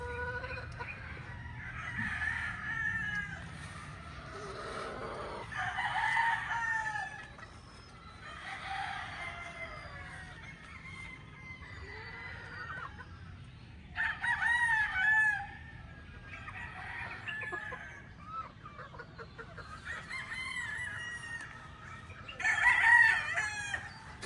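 Young laying pullets hatched in October cluck and squawk in a flock, loud bursts of excited cackling calls coming in repeated waves over quiet background, sounding close.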